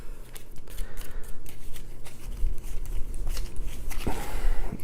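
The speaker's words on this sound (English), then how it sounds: "I have to shuffle." A deck of cards for the Tanto Cuore board game being shuffled by hand at close range, a run of quick riffling and sliding card sounds with a sharper snap near the end.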